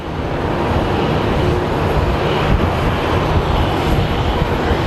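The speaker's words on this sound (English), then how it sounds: "Let's go look at this beautiful jet." Jet airliner at Sky Harbor International Airport, a loud, steady engine roar that fills the whole stretch without letup, broadband and close, with no talking over it.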